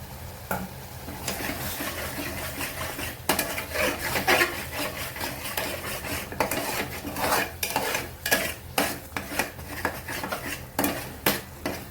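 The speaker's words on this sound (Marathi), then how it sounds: "त्यामुळे सतत हलवत राहायचे" A utensil repeatedly scrapes and clatters against a pan as cashews and boiled fresh peas are stirred, rhythmic close-up knocks over a low frying sizzle.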